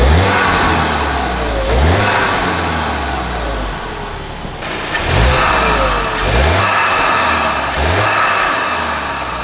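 Volkswagen Mk8 GTI with its stock intake, the engine revving up repeatedly in loud, close bursts that rise and fall about every two seconds over a steady idle drone, with no talking.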